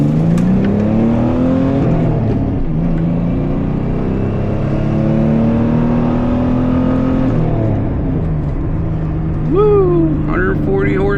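A Pontiac Fiero GT with a 140-horsepower engine in a 2,400-pound car accelerates, close and loud, the engine note climbing through rising gear sweeps. A voice cuts in briefly near the end.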